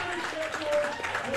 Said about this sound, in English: The crowd cheering everybody on.